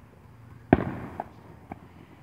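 Fireworks boom at a distance outdoors: one strong blast followed by two fainter pops, with quiet between them.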